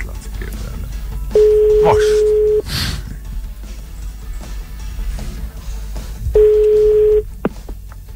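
Telephone line tones sound while a radio listener is being called, two steady beeps about a second long separated by a few seconds, over studio background noise as people talk.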